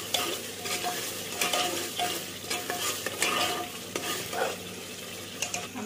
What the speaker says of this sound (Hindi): इसे 1 सेकंड के लिए, 2-3 सेकंड के लिए अच्छे तरीके से और भूनेंगे बस।